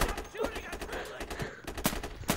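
Gunfire in the video game Insurgency, several sharp close shots scattered through a couple of seconds, heard alongside a person talking.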